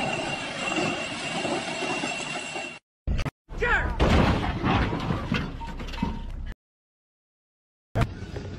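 Rumbling train noise on rails, with gaps of silence between bursts; the sound is loud and close, with some clattering.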